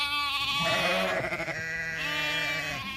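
Several curious sheep bleat close by in long, wavering, overlapping cries, one call running straight into the next with no voices heard.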